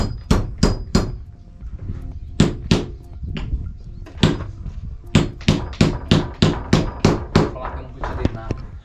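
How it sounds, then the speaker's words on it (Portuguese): Hammer blows striking a screw or nail on a broken-down truck on the road, many sharp close metallic hits coming in quick runs with short pauses, loud, with a voice talking in between. "Daí o martelo."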